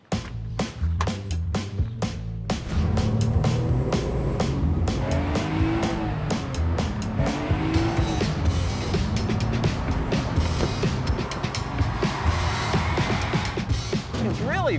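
A classic, very light car driving on the road around Newport, its engine droning steadily up close with some tire noise, while people talk over it throughout.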